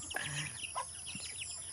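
Several chickens cluck and chatter faintly at a distance at feeding time, with short overlapping calls over a constant background hiss.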